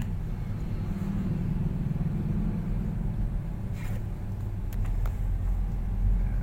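A car engine revving up during a driving lesson, a steady low rumble that holds level and swells slightly toward the end, heard from inside the car with a few faint clicks.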